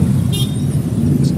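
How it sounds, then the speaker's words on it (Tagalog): Constant highway traffic rumbles past an e-trike, a dense low engine drone close by, with two brief high hissing bursts like air brakes. "Araw-araw po ay traffic dito sa highway."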